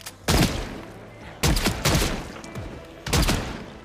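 Hostile survivors firing shotguns in Project Zomboid, heard as three or four loud, booming blasts spaced unevenly a second or so apart, close and heavy, with no talking over them.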